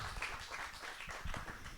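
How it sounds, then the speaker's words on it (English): Audience applause at a blockchain shipping meetup, a dense spread of clapping from a room of people that holds steady and fairly soft throughout, with no talk over it. "maybe already an applause for Menno"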